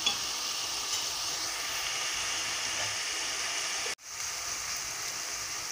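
Onions sizzle steadily in hot oil in a pan for egg curry, a close, continuous crackling hiss that cuts out briefly near the end and then resumes.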